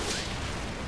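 Bren light machine gun fire in the Combat Mission wargame sounds as a short, dense burst of distant rattling shots, loud and continuous, with no voices.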